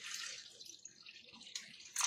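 Water is poured into a cooking pot, a bright trickling splash running steadily and then gushing in short bursts near the end, close and quiet with no talk.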